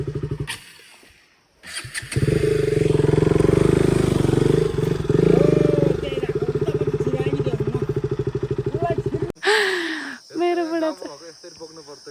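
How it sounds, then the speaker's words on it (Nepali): A motorcycle engine runs loud and close for several seconds as the bike is ridden in and parked at a rural village shed, then cuts off, followed by brief clattering. "अनि यहाँ चाहिँ अब हामीले बाइक राख्छौँ।"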